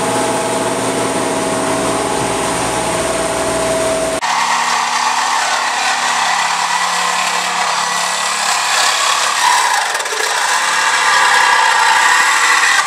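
A power tool cuts the tabs off a truck suspension strut, a loud continuous grinding whine that shifts to a harsher, brighter tone partway through and runs steadily to the end.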